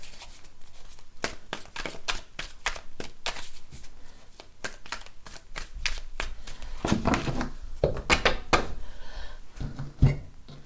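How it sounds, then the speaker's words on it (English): Rapid riffling and soft slapping of tarot cards being shuffled by hand, repeated bursts of crisp clicks and taps, close and fairly loud. "Just do a couple more shuffles here."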